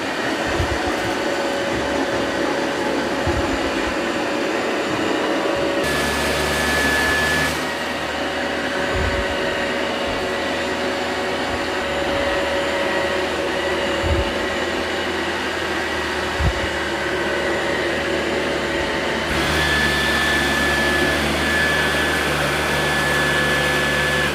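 Two robot vacuums, an iRobot Roomba 675 and a Dyson 360 Vis Nav, run with a steady motor whir and hiss, with occasional soft bumps and a change in tone as they move, and no talking.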